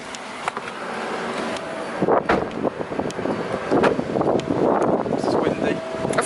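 Loud gusting wind buffeting the microphone at an electric car charging stop, rumbling and roaring continuously, with faint talk buried underneath.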